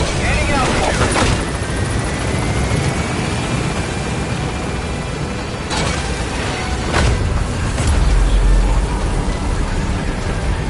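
The B-Quad extraction helicopter arrives over a landing zone in Metal Gear Solid, with a loud, continuous rotor roar and a rushing wash. Gusty bursts swell in the noise and the rumble deepens near the end.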